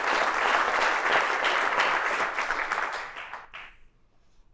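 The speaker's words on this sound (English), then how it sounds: "Please join me in giving a heartfelt round of applause to these remarkable individuals." Sustained applause from an audience at a London celebration marking a hearing-aid society's 70th anniversary, loud and dense clapping that thins and fades out near the end.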